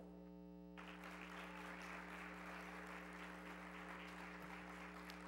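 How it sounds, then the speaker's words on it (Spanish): Strong applause from a conference audience welcoming a speaker at a communication congress, bursting in suddenly after a moment of electrical hum and continuing as a dense, even wash of clapping with a steady mains hum underneath. "Damos un fuerte aplauso."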